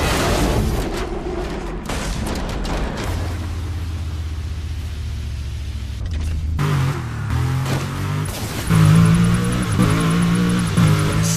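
A car tears through a Burnout Paradise stunt run, its engine rumbling and revving under loud crashes and booming impacts that come and go, with the roar swelling toward the end.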